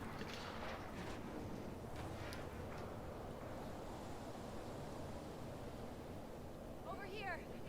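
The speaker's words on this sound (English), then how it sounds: "Pretty windy." Wind and breaking waves from The Last of Us Part 2 form a faint, steady rushing ambience with no clear pauses throughout.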